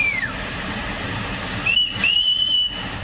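Shrill whistles from local people in the Himalayan hills of Himachal Pradesh, calling others to high ground after a cloudburst: a short falling tone, then a sustained high whistle held for about a second over steady rushing noise.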